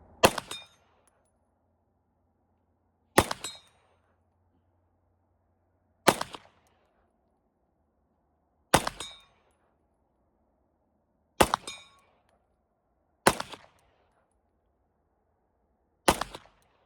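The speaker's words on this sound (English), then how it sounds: "We're gonna throw some lead downrange. Maybe I can get lucky and hit one of those 50-yard gongs." Kimber 1911 full-size alloy-frame 9mm pistol fired at 50-yard steel gongs on a range: seven loud, sharp shots spaced about three seconds apart, each followed by a short metallic ring.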